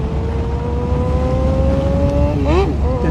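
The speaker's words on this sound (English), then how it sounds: "Can you hear the song of the motorcycle as we head?" A motorcycle riding alongside a cycling road race gives a steady, loud engine drone that holds one pitch, then briefly rises and wavers near the end.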